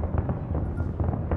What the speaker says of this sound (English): Look at these lights from fireworks.